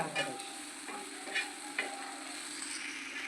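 Ingredients for hotel-style kothu parotta sauté in a pan, giving a soft, steady sizzle with a few spatula scrapes and taps. No one speaks.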